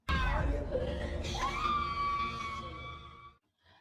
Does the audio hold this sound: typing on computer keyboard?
no